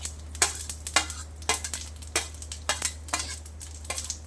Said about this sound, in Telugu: ఆవాలు వేసాను, ఏగుతూ ఉన్నాయి ఆవాలు.